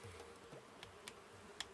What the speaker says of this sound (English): I can't escape these bees